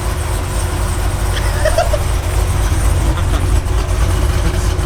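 Cammed Camaro engine idling while creeping forward in drive, a close, steady low throbbing rumble that stays loud throughout, with brief faint chirps from the surroundings.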